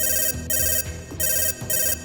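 A phone rings with an incoming call, its electronic ringtone sounding in loud repeated bursts separated by short pauses, close and alone with no talk over it.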